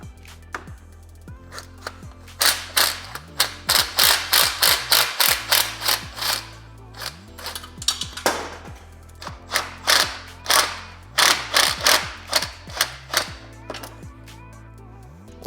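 A ratchet with an extension and universal joint works downpipe bolts loose on an 11th-gen Honda Civic, giving rapid bursts of close clicking and metallic clatter, with pauses between runs.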